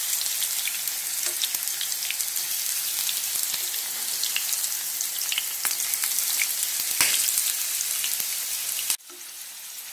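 Slices of suran, elephant foot yam, shallow frying in a pan, a loud, dense and continuous close sizzle with scattered crackles that drops abruptly near the end, and no talk.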